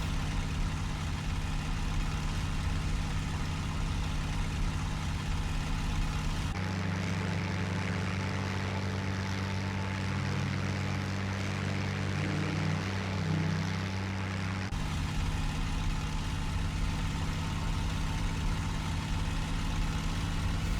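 Propeller fighter aircraft engine in the IL-2 Bodenplatte flight game, a steady droning hum that holds loud and continuous throughout, with a brief shift in tone midway, and no talking.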